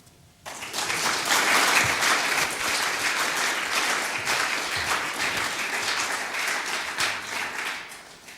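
An audience at an evening lecture applauds to welcome the speaker, a sudden start swelling into steady, full clapping from a large crowd that holds for several seconds before easing slightly.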